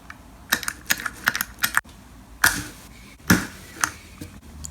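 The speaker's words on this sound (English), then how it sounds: "the important thing with a foot switch is what the actual switch sounds like. Yeah. That's a pretty good sounding switch." Sharp clicks from a TC Helicon Mic Mechanic foot pedal switch, about a dozen irregular close taps over quiet room tone.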